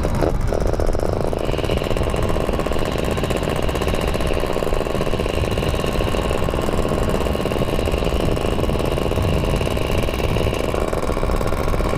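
Two-stroke motorcycle engine on a test ride, a continuous loud, buzzy raspy drone with steady revving and wind rush close to the microphone, lasting the whole stretch without talk.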